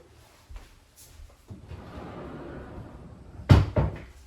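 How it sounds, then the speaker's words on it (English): A door is closed quickly indoors: faint shuffling, then a solid, close double thud near the end, with no one talking. "I'm just going to close the door quickly."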